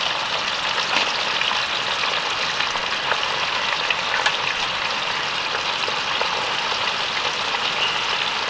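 Food frying in a pan over a campsite stove in a forest, a steady loud sizzle with crackling spatters throughout, no talking.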